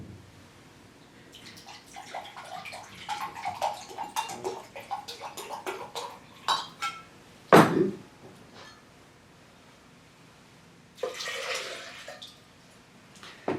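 A cup of spring water is poured for an almond milk smoothie base, a soft splashing pour lasting several seconds, then a sharp knock and a second brief burst of water near the end.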